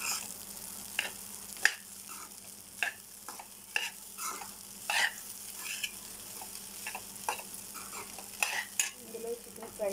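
Chicken fried rice with egg and soy sauce is stir-fried in a pan, with soft continuous sizzling broken by repeated sharp scrapes and clinks of a spoon stirring against the metal.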